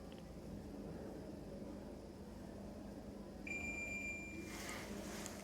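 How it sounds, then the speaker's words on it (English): Over a steady hum of background noise, a short electronic beep sounds from an LG air conditioner's indoor unit when Wi-Fi pairing is activated, followed by a faint higher tone that holds briefly. "You will hear this beep sound and Wi-Fi symbol will start blinking on the indoor."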